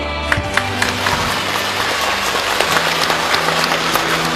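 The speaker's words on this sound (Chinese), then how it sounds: "现在我要把我们今天最隆重的掌声献给远在天堂上的袁老师" A theatre audience at a Yue opera memorial performance breaks into warm applause, a dense, continuous clapping with a few sharper claps standing out, even and full for several seconds without speech.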